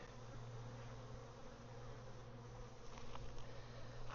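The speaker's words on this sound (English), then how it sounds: "this hive is just exploding right now. So many bees." Honeybees swarm around an open, crowded hive during an inspection, making a steady, dense buzz that fills the air close by with no voices.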